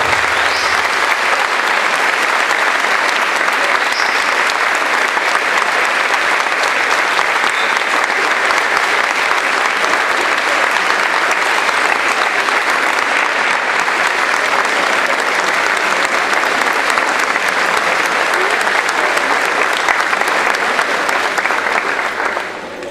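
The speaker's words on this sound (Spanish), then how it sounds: "levantándonos y dándoles un aplauso a Mario Federico Salvareza, a Patricia Juan" Audience applause fills a hall at a technical expo, a dense, steady roar of clapping from a large crowd that keeps up for over twenty seconds before starting to fade.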